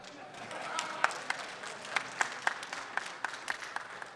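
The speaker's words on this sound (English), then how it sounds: "I'd like to devote the remaining 50 seconds of my minute to applause for the gentleman in the back" An audience at a post-quantum cryptography debate applauds a gentleman in the back, scattered distinct claps over a light crowd murmur, moderately loud and continuous, with a voice briefly underneath.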